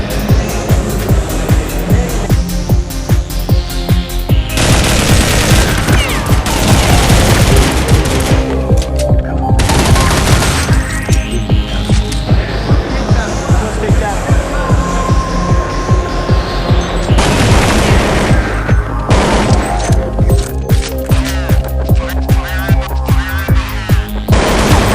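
Counter-Strike gunfire during a professional tournament final match: dense, continuous automatic rifle bursts and rapid shots fill the whole stretch, loud and layered with sweeping game effects and crowd or caster noise underneath.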